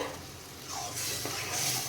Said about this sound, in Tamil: தயிர் கலவையை வந்து இது கூட சேர்த்துட்டு நல்லா கிளறி விட்டுட்டு